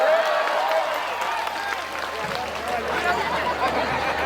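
A live audience at a Home Minister comedy game show claps steadily, a broad wash of applause mixed with crowd chatter and raised voices lasting several seconds.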